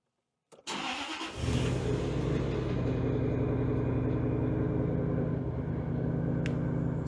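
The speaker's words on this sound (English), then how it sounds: "So that is running very rough. I've got a few rattles on the supercharger, I think." A Jaguar XKR supercharged engine cranks and catches after about half a second, then idles steadily and loudly, running rough with rattling from the supercharger and misfires, no talk over it.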